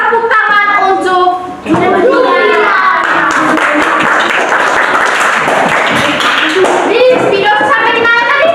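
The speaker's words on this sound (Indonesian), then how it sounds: "sekarang tepuk tangan untuk" Pupils in a classroom clap their hands together in a rhythmic class cheer, loud and close, mixed with children's voices chanting and a teacher speaking at the start and end.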